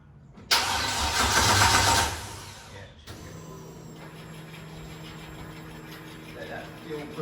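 An LS1 V8 fitted in a Mazda MX5 NC cranks and fires, giving a loud burst for about a second and a half, then drops off and settles into a quieter, steady idle with a faint hum.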